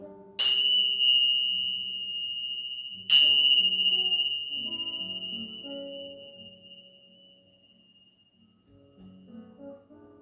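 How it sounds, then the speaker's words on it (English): Two bright bell strikes ring out during a hatha yoga relaxation, the first near the start and the second about three seconds later, each leaving a long, sustained resonant tone that fades slowly under a soft background. "Let your mind, your body, and your soul absorb the vibrations of the bells."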